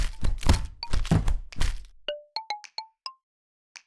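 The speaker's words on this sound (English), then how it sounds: "thrashing one of the bags of almonds with a rolling pin" Heavy thuds and cracks of a rolling pin thrashing a bag of almonds in a kitchen, from a horror dating sim game, a loud burst of blows followed by a run of short bright ringing dings.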